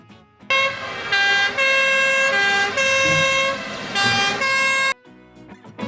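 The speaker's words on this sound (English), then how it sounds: "This is turntable tender and towing truck." Toy turntable tender and towing fire truck sounding a loud electronic two-tone siren, tones alternating in blocks for about four seconds before cutting out.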